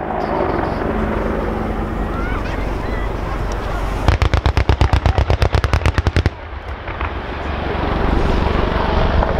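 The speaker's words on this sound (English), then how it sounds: "is now positioned by use of a return to target for a 30mm strike from the left" An Army Air Corps Apache helicopter fires its 30mm cannon during an airshow display at Dunsfold Wings & Wheels 2014, a rapid burst of about twenty loud, evenly spaced shots cutting through steady rotor and engine roar.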